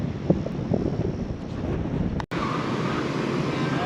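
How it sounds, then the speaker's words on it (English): Strong wind buffets the microphone in heavy, continuous low rumbles at a campsite on North Stradbroke Island, with a brief cut partway through before the gusting roar resumes. "It is so windy."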